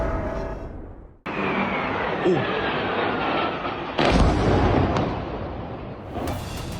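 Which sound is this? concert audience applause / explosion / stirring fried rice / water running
explosion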